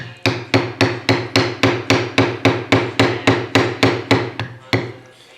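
A mallet strikes a leather beveling tool in a steady series of about fifteen sharp, loud taps, close up and evenly spaced, with a slight pause before the last hit and no talking.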